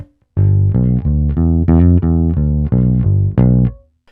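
A solo electric bass repeats a short blues fill of about eight punchy notes, one ornamented with a grace note, played close and loud with no voice over it.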